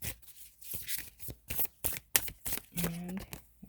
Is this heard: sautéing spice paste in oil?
no